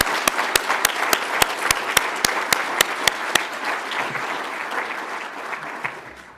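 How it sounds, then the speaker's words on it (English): An audience at a nursing pinning ceremony applauds a speaker, a few sharp nearby claps standing out over the crowd's clapping before it tapers off toward the end. "please give another round of applause for Dr."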